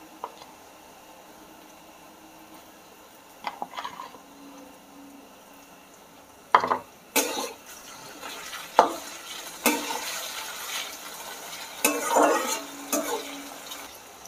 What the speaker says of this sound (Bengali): এইবার এই তেলের মধ্যে চিংড়ি মাছটা দিয়ে দেবো